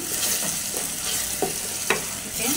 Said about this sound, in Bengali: তো এই যে দেখতে পাচ্ছেন আমি এগুলোকে একটু কষাইছি।